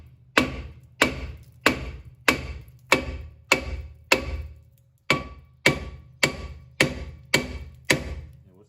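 Hammer striking the rear brake rotor of a 2006 Chevrolet Impala, a dozen sharp metallic blows in a steady rhythm about every half second with a brief pause midway, close and loud with no talk.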